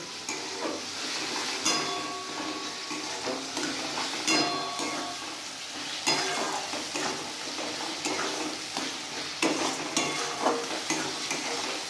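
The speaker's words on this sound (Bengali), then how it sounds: "এবার এই মশলাগুলো আমি ভালো করে ভেজে নেব সব একসাথে" Spices frying in oil for a dhaba-style masala, a close, steady sizzle broken by rhythmic scraping and clanking as a spatula stirs the pan, with no one speaking.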